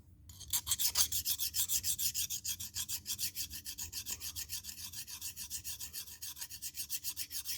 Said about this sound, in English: We'll hit it with a little bit of sandpaper.